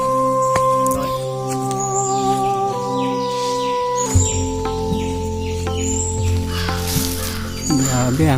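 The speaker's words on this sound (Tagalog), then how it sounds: "Talagang huni ng ibon yan. Iba't ibang uri ng ibon." Many different birds calling inside Katanubongan Cave in Lasam, Cagayan, a dense overlapping chorus of whistles, chirps and caws echoing loudly with sustained tones and rapid trills throughout.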